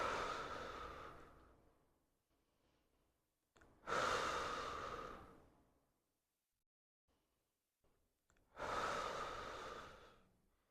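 Slow, deep breaths during a hip flexor trigger point release, two long exhales separated by quiet pauses, close and soft, with no talk.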